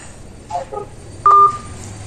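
A phone's keypad gives a few short dialing beeps while someone places a call: two quick soft tones, then a longer, louder steady beep, over a quiet room hum.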